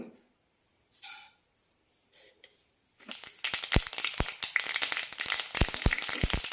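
A teaspoon of mustard seeds crackles in one and a half tablespoons of hot oil while tempering a tender jackfruit thoran, breaking after a few quiet seconds into a dense, close run of sharp pops and spits.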